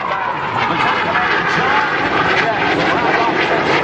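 Boeing F/A-18 Super Hornet jets at an air show roar past as a loud, sustained wash of broadband jet noise, with an announcer talking over it.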